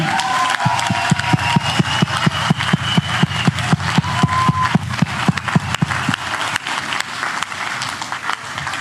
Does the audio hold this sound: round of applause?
yes